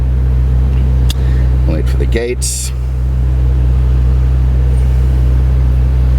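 A Ferrari California rolls along at low speed, its engine a steady low hum under cabin noise, while a voice speaks briefly inside the car.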